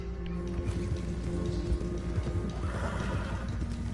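A horse in the video game Red Dead Redemption II neighs and whinnies amid clip-clopping hooves and a faint patter, moderately loud and close, with no voices.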